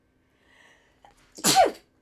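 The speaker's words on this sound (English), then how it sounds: "I had to sneeze." A single loud, close sneeze, preceded by a soft breathy intake, in a quiet indoor room.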